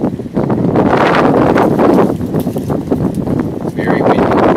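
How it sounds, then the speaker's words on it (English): Strong wind buffets the microphone on a hiking trail, a loud, steady roar of low rumble and gusting noise throughout. "I'd like to apologize if the wind affects this video"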